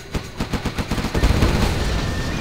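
Gatling cannon firing in Command & Conquer: Generals, a rapid train of sharp, loud shots that speeds up into a dense, continuous roaring burst.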